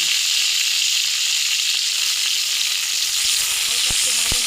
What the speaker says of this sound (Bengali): মরিচটা দেওয়ার সাথে আমরা রসুন কুচি দেব।